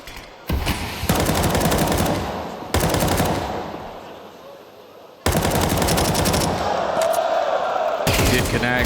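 Gunfire in Counter-Strike 2 during a professional esports grand final match, loud rapid bursts of automatic fire that start and stop abruptly several times, with faint voices underneath.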